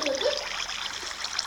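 A brief, soft trickle of water poured from a bucket in the Minecraft video game, quiet and short.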